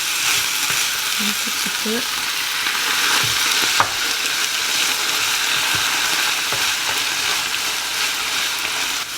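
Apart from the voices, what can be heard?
sizzling as juice is added to vegetarian hachis in pan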